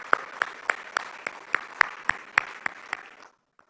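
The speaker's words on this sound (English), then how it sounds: "Can we also please have a loud round of applause?" Sparse applause at an esports league player auction: about a dozen distinct, separated claps in a steady rhythm, fairly close, stopping abruptly.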